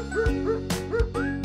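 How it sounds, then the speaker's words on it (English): A dog yips and barks in short repeated bursts, about four quick sharp barks in a row, close and clear over a steady tonal hum. "A dog in the house."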